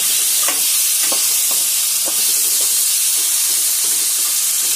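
Vegetable masala with turmeric and tomatoes frying in a pan, a constant loud sizzling hiss with intermittent scraping clicks of a spoon stirring, no voices.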